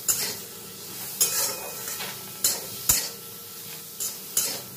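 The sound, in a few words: dry roasting broken cashews and spices in a pan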